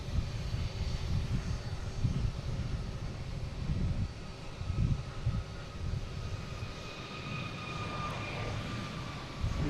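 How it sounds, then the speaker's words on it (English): An American Airlines Airbus A321neo takes off from Boston Logan bound for Miami, its jet engines giving a pulsing low roar with rising whining tones as it climbs away. "next taking off, we have American. Heading to Miami. A321neo, flight"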